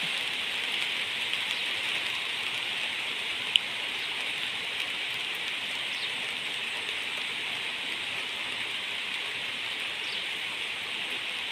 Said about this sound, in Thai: ฝนกระตกมาบ่หยุด